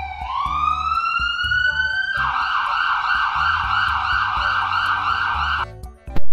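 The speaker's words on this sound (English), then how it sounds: "ICU ambulance." An ICU ambulance siren, loud and near, opens with a rising wail, then switches to a fast warbling yelp that cycles steadily before cutting off abruptly near the end.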